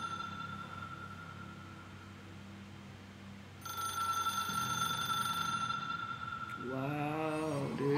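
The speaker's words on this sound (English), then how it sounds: "There's the phone they're talking about." Telephone ringing in the video game Control, a faint electronic trill sounding partway through over a low ambient hum, with a swelling musical tone rising near the end.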